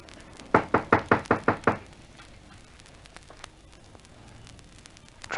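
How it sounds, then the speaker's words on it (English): A radio drama effect of a front door being knocked on: a quick series of six sharp, loud raps, followed by several seconds of quiet room tone with faint ticks. "Knock."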